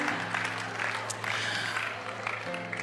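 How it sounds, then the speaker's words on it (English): Audience applause at a talk event: a short, dense wash of clapping that holds steady at moderate volume, with voices mixed in underneath. "I think that deserves another round of applause."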